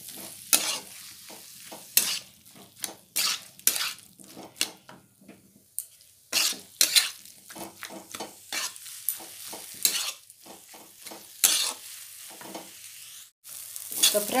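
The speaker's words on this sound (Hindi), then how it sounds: "मसाला को 5 मिनट के लिए अच्छे से पका लेती हूँ" Masala with chopped coriander leaves sizzles in a hot pan while a spoon stirs and scrapes it in repeated close strokes, the frying hiss steady underneath, with a brief lull partway through.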